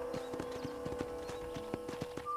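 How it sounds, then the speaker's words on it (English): Hooves of a war horse clip-clop in a quick, even rhythm across the ground in the video game Red Dead Redemption, fairly quiet and close, with no talking over them. "So this is the War Horse."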